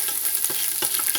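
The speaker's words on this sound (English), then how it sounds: "Pour some garlic in. Give that nice sizzle." Garlic frying in a hot pot for a jambalaya-style dish gives a steady, close sizzle and crackle, with faint stirring scrapes recurring every half second or so.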